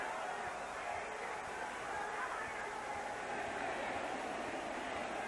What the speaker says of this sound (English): This crowd is excited now.